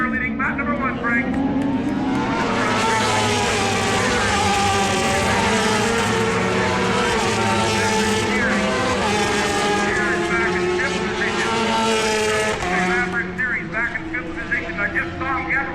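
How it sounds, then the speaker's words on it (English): Superbike motorcycles race at Shannonville track in Ontario, several engines screaming together in a loud, sustained, wavering roar with shifting pitch, while a commentator talks over them throughout. "a lot of bikes are in a lot of positions here as it'll be the Shaker leading lap number 1"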